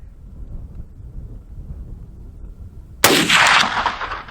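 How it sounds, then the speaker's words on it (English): One loud, close gunshot from a Rossi R92 .357 lever-action rifle at a target. It bursts after a stretch of low outdoor wind rumble and rings briefly as it fades. "Yeah, I should have aimed at the bottom of the target. Both those shots went over."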